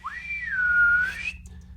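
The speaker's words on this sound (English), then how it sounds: "He cupped his hands and blew with all his breath," A single long, clear whistle blown through cupped hands swoops up, dips, then rises again before cutting off, heard alone against a faint low hum.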